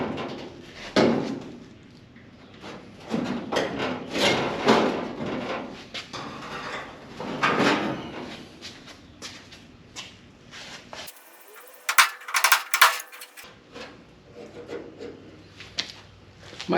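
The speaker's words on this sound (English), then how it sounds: "I've still got some seam sealer or goop I need to knock out of this channel back here before I do anything else" Old seam sealer being scraped and knocked out of a channel in a Firebird's replacement trunk floor: repeated rough scraping and rubbing strokes in bursts, with a brief sharper clatter near the end.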